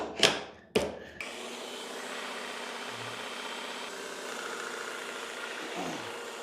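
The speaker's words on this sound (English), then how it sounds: "It's kind of operating like a standard Airless paint sprayer now." A battery-powered Lefondat 2-in-1 airless paint sprayer runs with a steady, continuous motor hum after a few sharp clunks at the start, holding an even level throughout with no talking.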